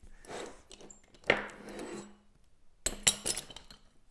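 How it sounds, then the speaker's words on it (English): Heavy decorative glass pieces handled on a work surface, giving scattered light clinks and scrapes, then a cluster of sharper, brighter clinks near the end, close and unaccompanied by talk. "so let's just attach these glass pieces"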